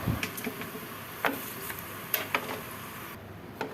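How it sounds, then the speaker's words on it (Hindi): Crispy fried chana dal being spooned into a tray gives a run of scattered light clicks and rattles with a few sharper taps, close and fairly quiet, with a faint sizzle-like hiss underneath. "जब हम स्पून से डाल रहे हैं ट्रे में तो आपको आवाज़ आ रही है कितनी क्रिस्पी फ्राई हुई है।"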